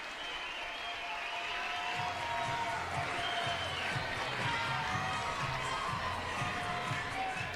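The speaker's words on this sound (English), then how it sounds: "And this crowd is alive. Oh, it's pulsating in here." A lively college softball stadium crowd in a Texas A&M versus LSU game cheers and applauds steadily, a busy wash of clapping and voices at moderate distance with faint thumping underneath.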